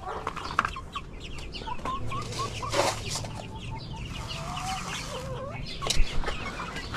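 Forty-five-day-old chickens cluck and chatter steadily while feeding, with several overlapping calls and soft pecking noises close by and no talking.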